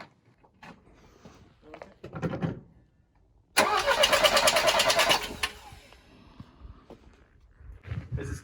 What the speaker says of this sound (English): this is the engine that we got out of our donor car